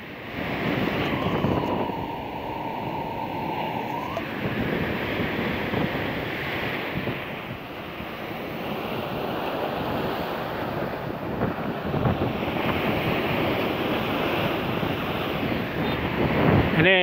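Rough sea waves crashing against a coastal sea wall during tidal flooding on the north Java coast, a loud continuous roar of surf and spray with heavy wind buffeting the microphone, close and unbroken.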